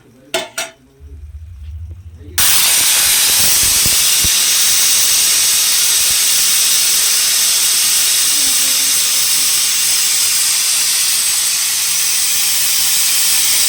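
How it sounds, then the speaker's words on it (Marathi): Mutton curry cooking in a pot for a birthday meal, with a loud, steady steam hiss that runs unbroken after a few soft clinks and bumps at the start. "मस्त मटणाची भाजी शिजत आहे."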